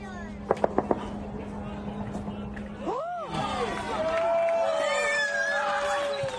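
Soldiers cheer and shout together in a loud crowd roar that swells and holds over several seconds, with a few sharp bangs near the start and a steady drone running underneath.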